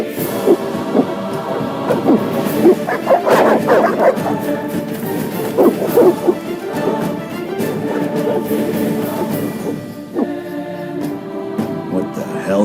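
Evil dogs in The Witcher bark and yip in repeated bursts, some loud and near, over a dense layer of game music and ambience, with growing commotion toward the end.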